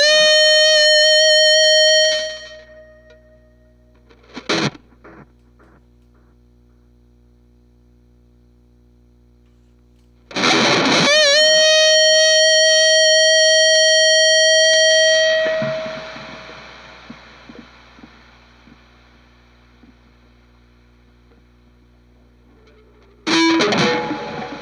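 Heavily distorted metal guitar chugs through a budget noise gate pedal set to a fast decay, with loud tight bursts cut off sharply into near silence and a low mains hum between them.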